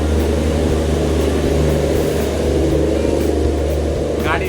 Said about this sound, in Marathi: रेल्वे चालू झाले आपल्या तिरुपतीच्या जे रेल्वे स्टेशन आहे त्याच्यावर निघाल्या गाडी आणि एकदम तेज चालला आहे